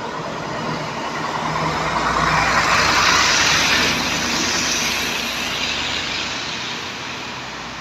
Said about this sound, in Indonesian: Masih truk besar.